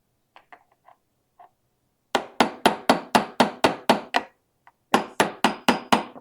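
A hammer drives a rounded chisel into thin material for Mandalorian shoulder armor trim, close sharp strikes in two rapid even runs of about eight and five blows, after a few faint taps.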